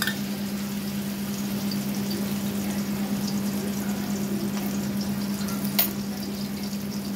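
Garlic, chili and pounded spices sizzle in hot oil in a kadai, a steady close hiss running continuously alongside a low, constant hum.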